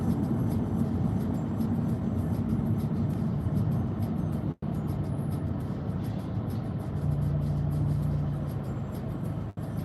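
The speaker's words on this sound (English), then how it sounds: "Ah, the Cinderella bus. This is a great bus right here." A Cinderella-themed bus with a carriage design drives past, its engine a steady, loud rumble and drone with road noise, fairly close, and no voices over it.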